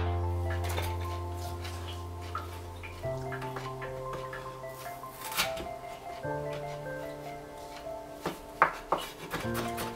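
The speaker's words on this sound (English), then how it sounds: "while I finish up cutting up everything, all the toppings" Toppings for fully loaded homemade nachos are cut on a board, irregular knife taps and chopping knocks sounding close in a kitchen, with sustained tonal background music underneath.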